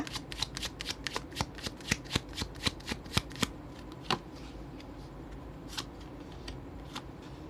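Tarot cards are shuffled for a reading, giving a rapid string of crisp riffling flicks that then slow to scattered, quieter snaps, up close and heard without talking.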